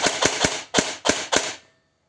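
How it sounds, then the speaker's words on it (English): An airsoft gun dry fires six times with the battery plugged in and no BBs loaded: sharp, close mechanical cracks in a quick uneven burst, with no talk over them. "now I will dry fire it a few times."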